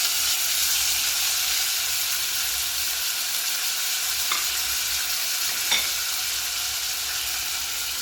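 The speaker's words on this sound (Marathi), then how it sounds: "आता मी घातलेलं पापलेट परतून घेते." Pomfret sautéing gently over low heat in a pan for Goan curry, a steady close sizzle and hiss running throughout with a couple of faint clicks of stirring.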